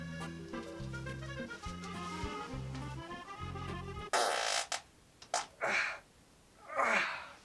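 A fart sound effect bursts out abruptly after a stretch of tuneful music, followed by a few shorter sputtering blasts and a final drawn-out one, loud and close with no talking.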